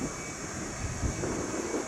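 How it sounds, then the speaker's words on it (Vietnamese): A Boeing 737-300 cargo jet of Central Airlines at Noi Bai airport, heard as a steady, broad engine roar with a high whine, moderately loud and continuous with no one talking. "Đây là một chiếc Boeing 737-300 của hãng Central Airlines"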